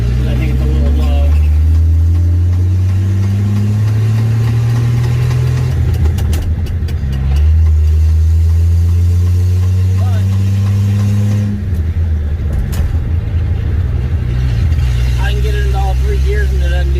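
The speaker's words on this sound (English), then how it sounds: "I think that's part of what I'm hearing is the transmission is just not happy." A Rambler car driving with an unhappy transmission low on fluid: a loud, steady low engine drone with rising and falling pitch as it works through the gears, while a person talks throughout.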